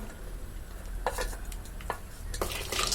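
Peanuts and curry leaves roast in a pan for chutney, giving a quiet sizzle with scattered scraping stir strokes and light clinks of a utensil against the pan, without any talking.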